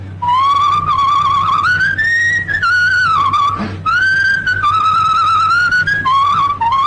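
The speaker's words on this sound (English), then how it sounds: "When she comes in the door, you whistle." A person whistles a wavering tune up close, loud and clear, with one short pause midway over a low steady hum.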